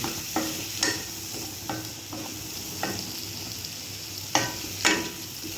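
Potatoes frying and being tossed with spices in a pan, a constant sizzle broken by about eight sharp spatula scrapes and knocks at uneven intervals, close and alone.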